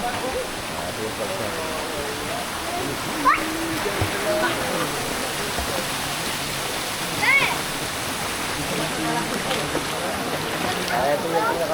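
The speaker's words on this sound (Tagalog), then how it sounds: "Ito ang ating Tampayan Falls." Tampayan Falls, a waterfall in Quezon Province, roars as a steady broadband rush of falling water that fills the whole clip, with people talking faintly beneath it.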